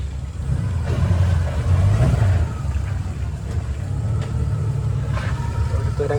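A boat engine rumbles steadily while the boat turns on the Poovar backwaters. The low drone is loud and continuous with a slight swell early on.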